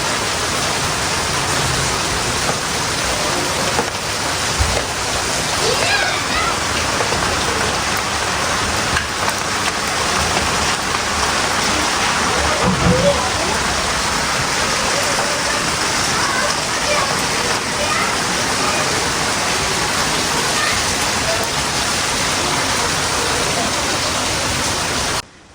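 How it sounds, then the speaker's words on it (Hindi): Heavy rain pours down steadily, a dense close hiss of drops hitting surfaces that continues unbroken, with occasional faint voices and small thumps underneath. "तेज़ बारिश लगी हुई है"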